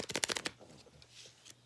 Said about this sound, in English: just going to shuffle some tarot